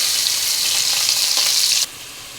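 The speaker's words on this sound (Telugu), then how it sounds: "కొద్దిగా కరివేపాకు వేసుకుందాం అలానే ఉల్లిపాయ ముక్కలు కూడా వేసేసుకుందాం" Curry leaves and chopped onions hit hot oil with a loud, steady hiss and sizzle that drops off sharply near the end, no voices over it.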